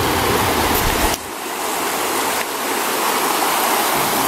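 Steady rushing flow of a stream over rocks, close and continuous with a broad hiss, level throughout with no talk.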